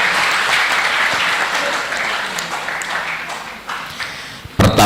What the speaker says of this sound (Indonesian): Tepuk tangannya buat kita semua.